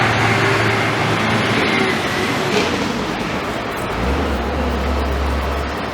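Trucks passing on a state route in front of a house, a loud, continuous roadway roar with a deep engine drone building toward the end as a heavy vehicle goes by close.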